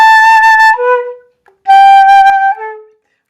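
A flute plays two falling intervals, each a sustained higher note dropping to a lower one that is clipped short, clear and close with a brief silence between the phrases.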